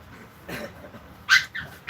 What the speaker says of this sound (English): I have the 7 puppies, and they're just learning to wrestle, and they pull each other's ears.